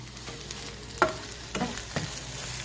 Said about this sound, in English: pour it into the frying pan. Then simply stir.